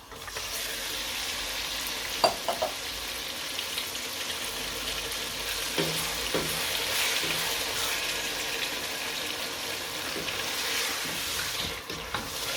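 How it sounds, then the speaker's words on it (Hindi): Chicken fries in a pot for chicken biryani, a continuous sizzle with occasional clinks and scrapes of a spoon turning the pieces, and a brief sharp knock near the start. "चिकन हमने डाल दिया तो इसको अच्छे से भूनेंगे।"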